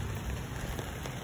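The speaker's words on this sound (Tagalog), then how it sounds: "Tingnan nyo, lakas ang ulan oh." Heavy rain pours down on a road in a steady, dense hiss of countless drops striking the surface. It is close and continuous, with no talking.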